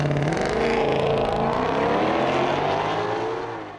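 A 2020 Ford Shelby GT500 launches hard under launch control, its engine roaring loud and continuous with a rising pitch as it pulls away, then tapering off at the end.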